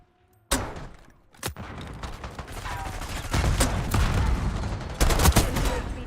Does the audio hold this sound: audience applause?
no